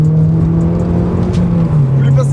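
Volkswagen Golf engine pulling hard, loud and close from inside the car, a steady droning tone shifting slightly in pitch as it accelerates.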